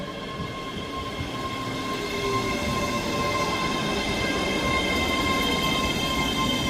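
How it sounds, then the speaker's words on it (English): A Scotrail class 385 electric train pulls into Edinburgh Haymarket, a steady rolling rumble with faint tonal whine and light wheel squeal growing slightly louder as it arrives, heard alone up close. "Arriving in now is the 11:38 Scotrail service from Edinburgh Waverley to Dunblane"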